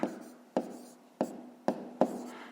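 A pen writes numbers on paper in five sharp taps spaced about half a second apart, each followed by a short scratch, close and quiet.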